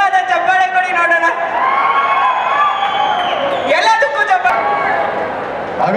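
Loud audience cheering, whooping and clapping at a film song release event, with a dense crowd roar and high shouts that rise and continue over several seconds.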